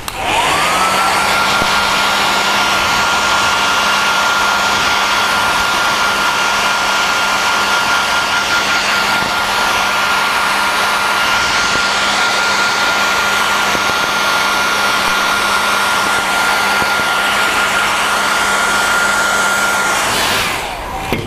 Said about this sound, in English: I will dry it with the hair dryer as usual.